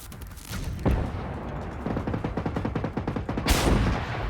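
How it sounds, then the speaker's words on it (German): Gunfire in the video game Generation Zero, a quick string of rapid shots in the middle with a heavier boom near the start and another near the end, set against steady game background noise. "Jetzt schieße ich wieder daneben."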